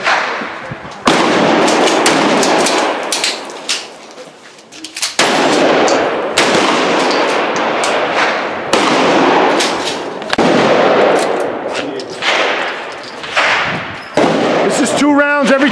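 Tactical 12-gauge shotgun rounds fired on command at a training range, loud sharp blasts repeating in pairs across the clip, with a shouted command and people talking in between.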